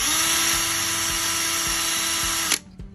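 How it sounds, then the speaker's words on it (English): A high-pitched Dremel or drill whines steadily at close range, then cuts off abruptly near the end, leaving a brief faint clatter. "Next, you can use a Dremel or a drill."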